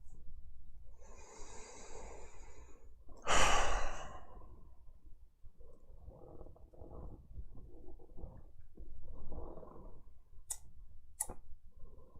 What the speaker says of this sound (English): Sorry if my chair's farting a lot.